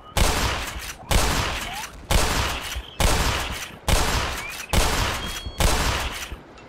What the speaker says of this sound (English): I just missed 3 shots directly at it